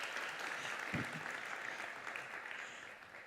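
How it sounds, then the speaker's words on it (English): Audience applause at the Global Relations Summit 2024 opening, a steady mid-level patter of many hands clapping that holds throughout and eases slightly toward the end. "Big applause."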